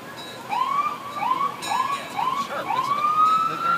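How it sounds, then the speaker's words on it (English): A police siren whoops repeatedly, each rising yelp quick and close, ending in a longer sustained wail. "on this car, I have five different sirens"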